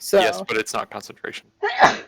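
A single short, loud sneeze bursts out at the end, right after a stretch of conversational speech among people at a tabletop game session.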